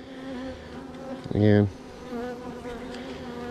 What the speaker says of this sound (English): Shake all the bees out of the way.